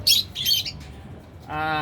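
Handfed pet birds at a bird booth let out two sharp, shrill squawks close by, then a harsher, rasping call after a short pause.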